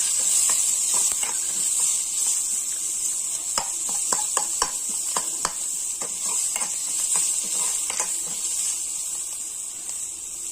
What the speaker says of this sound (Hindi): 1 प्याज कटा हुआ और 2 से 3 हमारा हरा मिर्ची डाल देते हैं इसमें। इसे भी भून देते हैं हम अच्छे से